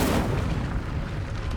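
An Incendio fire spell is cast in Hogwarts Legacy, a loud whooshing burst of flame with a deep booming onset that roars briefly and then holds as a dense rumble.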